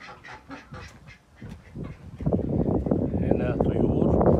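Ducks quacking at an agritourism farm, sparse quacks at first building into a loud, dense chorus of quacking and honking birds close by.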